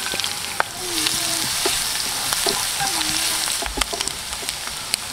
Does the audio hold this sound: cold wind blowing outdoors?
no